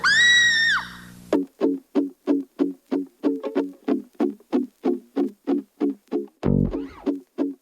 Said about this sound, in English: Golden introduces new shrieks and creaks